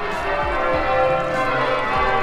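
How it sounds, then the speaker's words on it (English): Clock tower bells ring out across the town of Wells, England, on a Sunday: a dense, continuous wash of overlapping chimes with strong lingering tones, loud and steady throughout, with no voices. "I'm sure the clock chimes a lot every day"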